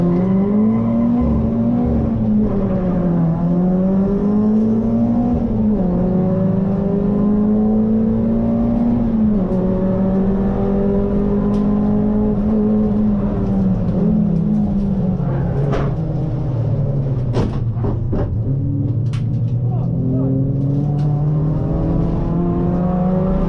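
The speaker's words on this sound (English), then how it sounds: "we've got one of your race starts here from Donington" A pack of circuit race cars accelerates off the grid at the Donington race start, engines roaring and rising in pitch together, with a constant loud, dense wall of sound and occasional sharper mechanical bursts.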